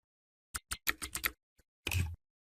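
A few quick keystrokes on a computer keyboard entering a verification code, a cluster of clicks followed by a single tap and one longer clatter, close and clear with no talking.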